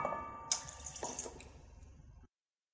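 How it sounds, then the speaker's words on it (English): Warm water and cocoa powder stirred together in a mixing bowl, a short close wet swishing with a few small splashy clinks, running alone for about two seconds before stopping abruptly. "Mix the cocoa powder with the warm water in the mixing bowl."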